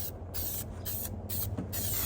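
Spray adhesive hisses from an aerosol can onto booster seat plastic in several quick, close bursts separated by short pauses, steady and moderately soft.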